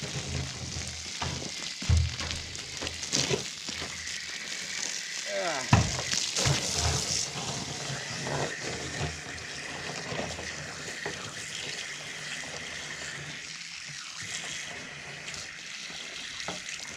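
Running water from a tap or hose during gas tank restoration work on an abandoned 1957 Chevy: a steady, fairly close rushing splash with irregular sloshes and clatters, continuous throughout.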